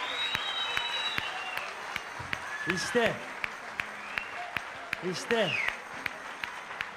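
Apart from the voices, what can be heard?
studio audience applause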